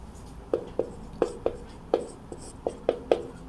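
Pen strokes on paper while a system of equations is written out in matrix form for a class 12 maths exercise: about a dozen short, sharp scratches come in an uneven rhythm, close and quiet, with no talking.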